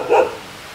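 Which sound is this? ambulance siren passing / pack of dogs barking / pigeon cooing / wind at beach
pack of dogs barking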